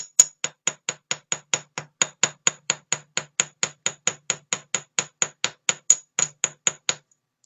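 A hammer strikes sterling silver earrings to texture one side, about thirty sharp metallic taps in a steady, even rhythm. The taps are close and crisp and ring briefly against a quiet background.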